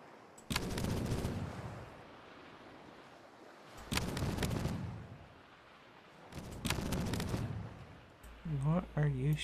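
Cannons boom from a ship in a pirate naval-battle video game, arriving as three separate loud bursts of rumbling fire with quieter gaps, and a voice is heard briefly at the end.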